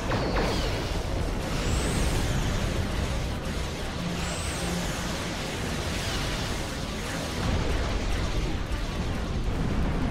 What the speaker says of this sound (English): give me a spread of quantum torpedoes. Fire!